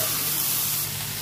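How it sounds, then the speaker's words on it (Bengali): Ground sesame paste and onion fry in a pan for tell bhaja, giving a brief, steady sizzling hiss that is loud and close. "বেটে রাখা তিলটা দিয়েছি, এবার পেঁয়াজের সাথে একটু ভালো করে একটু হালকা করে ভেজে নেবো।"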